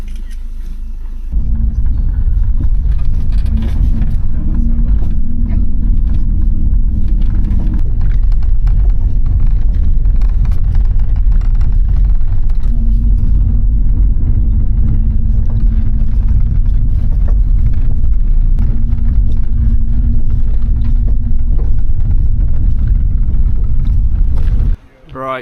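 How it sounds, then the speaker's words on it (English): Vehicle driving a very bumpy 11-mile track from Cape Wrath to the ferry, a loud continuous engine rumble with jolts and rattles, heard close and steady throughout, with wind buffeting at times. "that was a 1 hour, 11 mile, very bumpy ride from Cape Wrath to the ferry"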